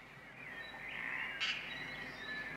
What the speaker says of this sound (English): The noise is mainly birds.